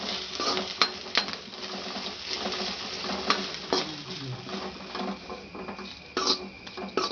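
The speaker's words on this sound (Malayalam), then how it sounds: "തേങ്ങ ചെറിയ തീയിലിട്ട് വറുക്കണം." Grated coconut roasts on a low flame in a pan, its soft continuous sizzle broken by scraping stirs and spoon clinks against the metal, close up with no talking.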